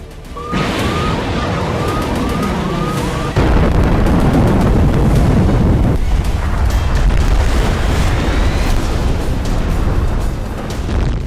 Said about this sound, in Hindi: ऐसा भयंकर धमाका,